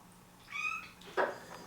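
A house cat meows for food in a kitchen while oil heats on the stove, two short meows: a thin tonal cry, then a louder, rougher one, close by with no talk.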